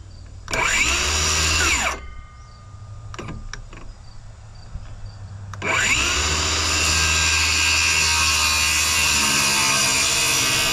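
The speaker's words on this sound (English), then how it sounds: "So now that I'm marked, I can just take the skill saw and buzz them off." A circular saw cuts through roof framing boards on a chicken coop build, with two loud buzzing cuts separated by a short lull of lighter knocks, the blade whining steadily at close range with no voices.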